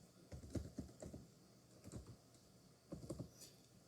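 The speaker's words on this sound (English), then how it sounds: "if we type the condition here" Typing on a computer keyboard comes in three short bursts of quick, light clicks, soft and close, separated by brief pauses, with no voice.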